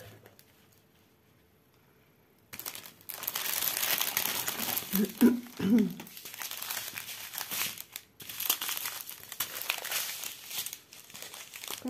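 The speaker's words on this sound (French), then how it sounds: "je fais des bruits de sachet" Crinkly plastic packet from a stamped cross-stitch kit rustles and crackles close to the mic after a quiet start, in bursts of handling noise with brief pauses.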